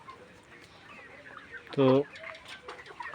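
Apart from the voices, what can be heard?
hen clucking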